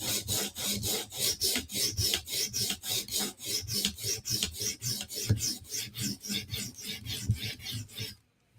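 A knife edge is drawn across a coarse 150-grit sharpening stone in steady, rhythmic rasping strokes, roughly three per second, close and uninterrupted before stopping abruptly.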